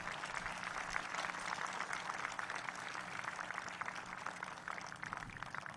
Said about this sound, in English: Let's give Brandon a round of applause tonight.